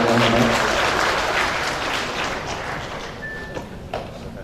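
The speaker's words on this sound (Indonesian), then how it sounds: "Kita berikan aplaus yang meriah untuk Bapak Faruk Muhammad" An audience at a seminar and title conferral ceremony applauds a plaque recipient with dense, loud clapping that gradually thins and fades, leaving a few scattered claps and thumps near the end.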